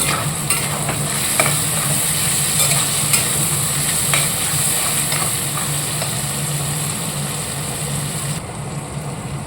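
Whole garam masala sizzles in hot oil with a dense, continuous frying hiss, steady and fairly loud, broken by faint scattered crackles and light utensil taps before the sound thins slightly at the end.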